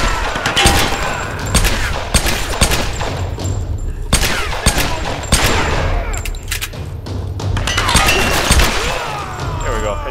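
Repeated gunshots in the Tomb Raider video game, sharp bursts scattered through a dense, noisy action mix with a voice speaking over parts of it.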